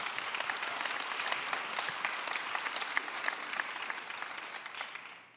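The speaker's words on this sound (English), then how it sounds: "I think that deserves another round of applause." A summit audience gives a sustained round of applause, dense even clapping from a large crowd that holds steady and then tapers off at the end, with no voices over it.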